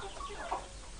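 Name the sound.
Kadaknath chickens clucking on a poultry farm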